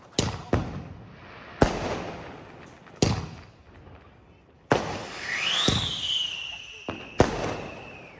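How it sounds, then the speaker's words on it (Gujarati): Diwali firecrackers burst one after another in a small town, sharp loud bangs spaced a second or two apart with a whistling rising shriek from one rocket, heard outdoors from nearby. "હાથમાં ફૂટે ફટાકડા."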